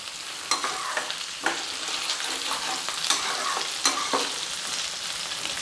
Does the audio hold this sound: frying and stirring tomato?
yes